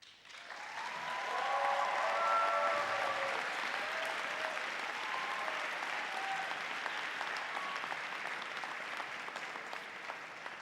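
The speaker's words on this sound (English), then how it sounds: "let's give them applause as well, all the faculty" Sustained applause fills a university graduation ceremony as the audience claps for the faculty, a dense, steady roar of many hands that swells early and holds throughout.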